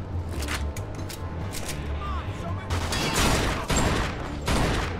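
Gunfire rattles in the Mafia 2 video game, with bursts of shots and sharp cracks building in intensity over ambient battle noise, while voices talk over the action.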